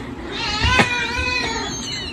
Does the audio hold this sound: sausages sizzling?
no